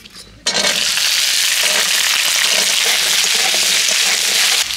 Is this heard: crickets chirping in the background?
no